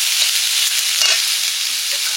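Fried potato and eggplant dropped into a hot pan, giving a dense, steady close-up sizzle of frying that holds evenly for a couple of seconds without any talking.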